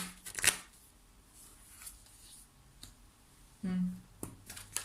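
Oracle cards are shuffled with a crisp, brief riffling burst near the start and another short flutter later, set among soft handling sounds while someone speaks quietly nearby.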